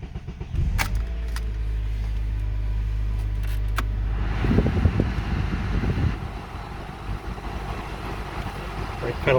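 A 2009 Honda Accord with a four-cylinder engine is driven for a brake test: a low steady road and engine rumble, then a rougher burst of tyre and braking noise midway before the car settles again.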